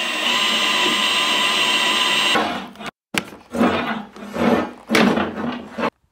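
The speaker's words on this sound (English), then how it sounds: "there's our flexible auger bit. It made it through the subfloor, no problem." A drill whirs steadily, then cuts out, followed by bursts of grinding and scraping as a flexible auger bit bores through a wooden subfloor in an old house, with brief pauses between.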